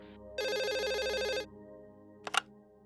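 A telephone rings indoors in a Hindi drama scene. One long electronic ring lasts about a second against a soft background hum, and a short burst of a different sound follows a moment later.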